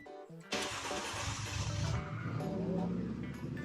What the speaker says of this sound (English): This time it fired right up.